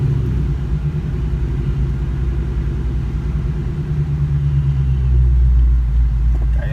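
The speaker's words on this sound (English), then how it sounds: "There's nothing quite like the sound of a 2-valve Mustang." A cammed 2004 New Edge Ford Mustang GT with a 2-valve V8 rumbles low and steady while cruising slowly, heard from inside the car with the windows partly down, swelling a little toward the end.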